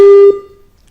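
Loud steady telephone-line beep during a phone-in call on a farm broadcast, a single pure tone lasting about a third of a second and then fading away.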